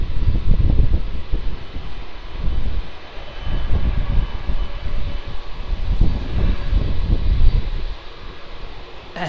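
An Etihad Boeing 777 at Melbourne Airport gives off a loud, steady jet roar with gusty, rumbling low-end surges and wind buffeting the microphone, with no talk.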